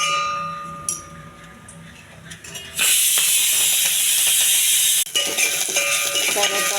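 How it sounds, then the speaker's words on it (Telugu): Curry leaves hit hot oil in a pan for a pongal tempering, bursting into a loud, steady hiss and crackle that holds for a couple of seconds, dips briefly, then resumes, with some background speech. "కరివేపాకు వేగించుకోవాలండి."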